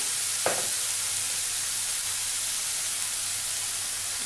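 Ivy gourd (kovakka) sautés in a pan for thoran, a steady, soft sizzle with one brief clink of a utensil near the start.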